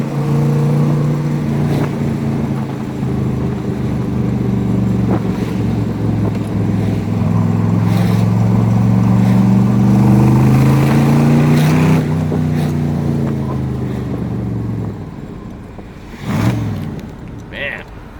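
A 1964 Chevrolet Corvette Roadster with its original 327 V8 and four-speed drives close by, a loud steady engine drone that rises and falls through gear changes, then settles near the end while someone talks.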